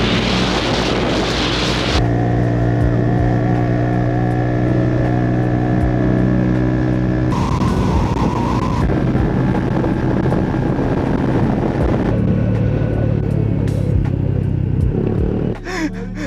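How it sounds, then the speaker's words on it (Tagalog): QJMotors Bristol ATR 160 motorcycle running without its silencer, a loud, raw engine drone with strong low harmonics held close for most of the ride, its pitch shifting as the engine revs rise and fall. "Natanggal yung silencer ko. Ang ganda ng tunog."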